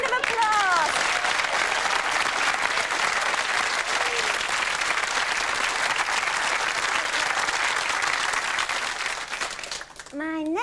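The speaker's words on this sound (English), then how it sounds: "Give yourselves a round of applause." Studio audience on a 1996 UK chat show applauds steadily and loudly, a dense wash of clapping for about ten seconds with a few whoops and shouts, then the applause fades out and a voice starts to speak.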